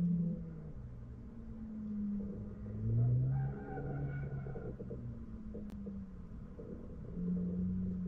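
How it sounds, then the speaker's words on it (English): A 2023 Chevrolet Corvette Z06 C8 on a test track, its engine a low rumbling drone that rises and falls in pitch as it passes and shifts, heard from a moderate distance. "the test drive of the Z06 2023 Corvette"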